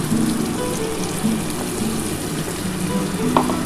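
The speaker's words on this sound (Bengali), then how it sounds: "এবার এই জলটা দিয়ে দিলাম মশলার জলটা" Spiced water is poured into a simmering curry of hilsa fish, aubergine and potato, a continuous close splashing and bubbling wash with faint clinks, without talk.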